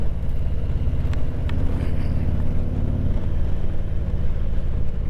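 A motorcycle cruising along old country roads, its engine droning as a steady low hum under strong helmet wind roar, constant and loud from the rider's position, with no speech.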